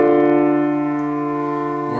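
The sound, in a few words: minor triad chord played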